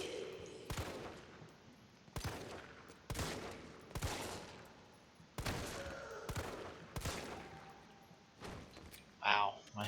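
Gunshots ring out in Resident Evil 3 Remake, about eight sharp, evenly spaced reports with echoing tails, fired one at a time over quiet game ambience, ending in a faint rattle.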